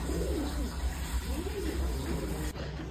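A pigeon cooing close by in a domestic setting, low soft repeated coos over steady background hum, with voices nearby.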